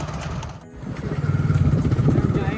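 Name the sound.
motorcycle riding on road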